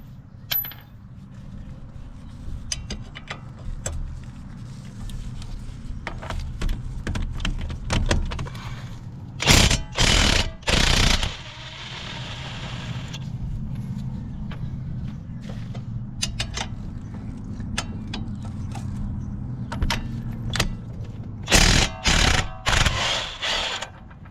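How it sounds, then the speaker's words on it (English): Wrench work loosening the 19 mm and 24 mm strut bolts on the front of a 2018 Kia Optima, with sharp metallic clicks and clanks in uneven bursts over a steady low background hum, loudest around the middle and near the end. "Next, we'll just remove the 2 strut bolts."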